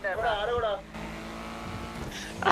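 A vehicle engine in a video game drones steadily after a brief voice, holding a constant close hum with a small rise at the end.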